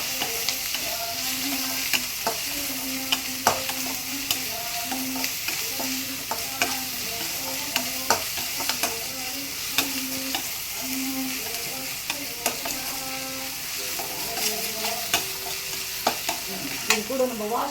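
Onions sautéing in a pan, a continuous frying sizzle with frequent scraping stirs of a spatula against metal, steady and close throughout.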